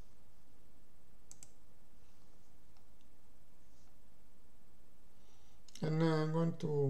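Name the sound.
computer mouse clicking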